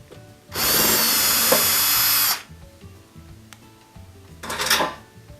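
Power drill backing Phillips head screws out of a Bosch dishwasher toe kick panel: one loud sustained whirring burst for about two seconds, then quiet clatter and a second shorter whir near the end.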